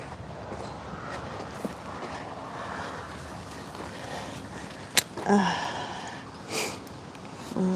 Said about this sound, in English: Yeah, it's so windy.